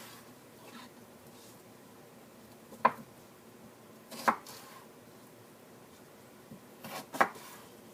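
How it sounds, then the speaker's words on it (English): A knife cuts cucumbers into quarters on a cutting board, with a few sparse, faint chops and taps at irregular intervals over quiet kitchen background. "I'm going to slice them again so they're in quarters"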